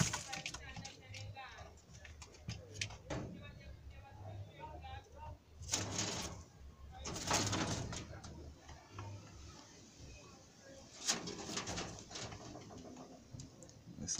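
Two kept pigeons coo softly indoors, their low murmuring calls repeating beneath scattered knocks, rustling and bursts of noise, with someone talking at times.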